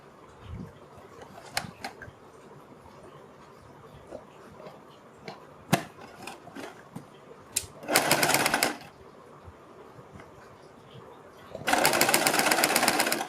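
A sewing machine stitches a kurti neckline in two short runs of rapid needle chatter, separated by quiet handling clicks and fabric rustles.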